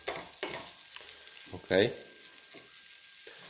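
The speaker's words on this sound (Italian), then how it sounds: "Mescolo sempre con una spatola in legno per non rovinare la pentola." Broccoli and onion fry in a pan and are stirred with a wooden spatula. There is a soft sizzle with a few scraping strokes, one louder scrape near the middle, and someone speaks briefly.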